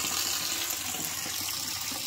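Water circulating through a farm water system, a continuous splashing, trickling flow like a tap running into a basin. It is close and steady, with no voices.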